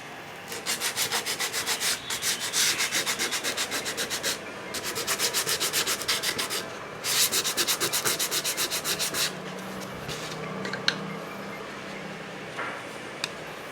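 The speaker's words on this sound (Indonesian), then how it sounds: "dan kita haluskan dengan menggunakan amplas." Sandpaper rubbing over glued craft lamp parts, steady rhythmic back-and-forth scraping strokes in several bursts with brief pauses, close and clear, no talking.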